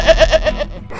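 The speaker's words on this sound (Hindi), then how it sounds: "प्यारा बकरा।" A goat in a cartoon village story gives one loud, close, quavering bleat with a rapid pulsing wobble that fades out.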